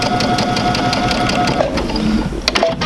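Sewing machine stitching quilt sampler pieces, a close, fast and even mechanical whir with rhythmic needle clatter running continuously, with small clicks near the end.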